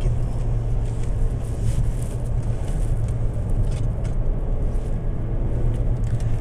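Steady engine drone and road noise from a 2016 Mazda 3 accelerating while driving, a continuous low hum heard from inside the cabin with no clear surge in pitch.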